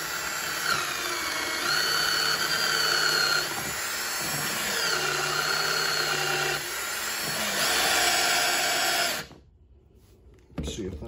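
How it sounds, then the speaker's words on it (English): A power drill whirs through plastic on a Honda EU1000i generator in several bursts with brief pauses between, loud and close, cutting off near the end before a short final spurt. "So we'll go ahead and get this where we can drill this out here"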